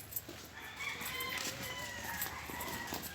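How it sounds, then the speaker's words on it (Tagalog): Chickens cluck nearby as a rooster's long crow rises over them, a clear rural morning chorus at close range. "makikita natin yung mga nangingitlog na manok."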